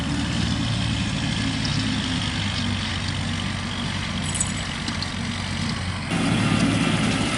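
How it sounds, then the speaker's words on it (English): A Kubota L2501 tractor engine runs steadily with a low, continuous diesel rumble, loud and close, shifting slightly in tone near the end with no talk over it. "I kind of enjoy driving the tractor too."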